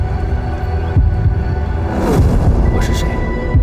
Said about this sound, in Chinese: 只有我的心跳声